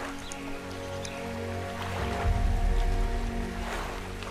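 Rain falls steadily in ARK: Survival Evolved on the Valguero map by a lake, a soft, even hiss of drops with a low rumble swelling midway through, with no talking.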